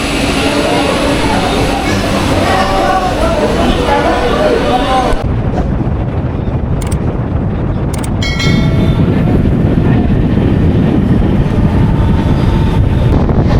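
Train departing Bagnan station on the Howrah–Digha line, a steady loud rumble with wind buffeting the microphone, shifting partway through as the carriage noise changes and continuing as a continuous roar.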